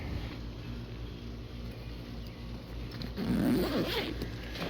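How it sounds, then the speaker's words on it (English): A zipper on a backpack compartment is pulled open, a steady scratchy rasp that grows rougher and louder toward the end, heard up close against low background noise. "underneath here there's a zipper. I can unzip that and make the main compartment much larger"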